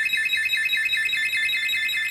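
A portable travel door alarm sounds a steady, piercing electronic beep that pulses rapidly and evenly without a break, loud and close, with no talking.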